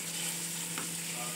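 Bihon noodles tossed with seasoning in a hot pan give a brief, continuous frying hiss, with a single soft scrape of the utensil near the middle.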